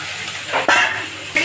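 Chicken pieces sizzling in a pan as they start to fry, a steady close hiss with bursts of spatula stirring and scraping, brief and fairly loud.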